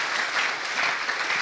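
An audience at a technical talk applauds after the presentation, a steady dense clapping from many hands at moderate volume with no voices over it.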